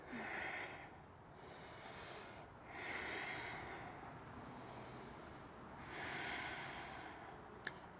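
Slow, deep breaths during a yoga stretch, with about four long, soft inhale-exhale cycles heard close and alone in a quiet room.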